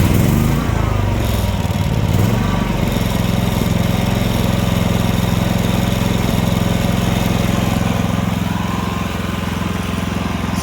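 A Predator 5000 portable generator runs in a toy hauler, a loud, steady engine drone with a buzzing, mower-like tone that holds unbroken at close range, with no load connected.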